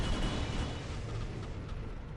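Heavy turret fire in the shooter game Area 51, a continuous loud rumbling barrage of booms that stays dense and steady throughout, with no talking over it.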